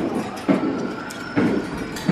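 A passing train rumbles with a steady rolling noise and rhythmic clacking bursts from the wheels, heard close up and alone.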